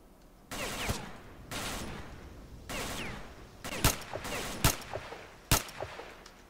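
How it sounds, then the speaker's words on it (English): Gunfire in the video game S.T.A.L.K.E.R.: Shadow of Chernobyl comes as several short bursts and sharp single shots, some distant and some closer, spread irregularly across the stretch. "Oh, who's shooting at me?"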